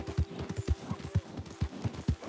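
Horse hooves clip-clop at a steady walking rhythm in Red Dead Redemption 2, close and distinct, with a faint background hum and no voices.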